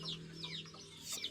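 A young Sussex chicken clucking softly and continuously over a short stretch, close by, with no talk.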